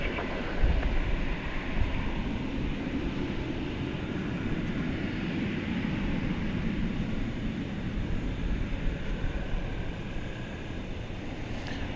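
An American Airlines Airbus A321 takes off at night at DFW Airport, a broad, steady jet roar from a distance that holds throughout with little change.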